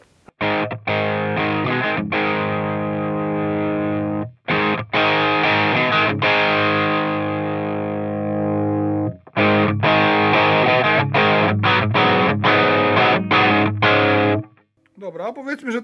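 Heavily distorted electric guitar through a NUX Ace of Tone dual overdrive pedal plays sustained chords and choppy stabs with short breaks between phrases, loud and saturated, ending in a wobbling pitch sweep.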